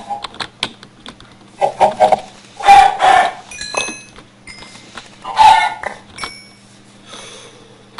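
Short clucking and squawking bursts from Minecraft chickens, coming in scattered clusters over faint background hum with a few clicks between.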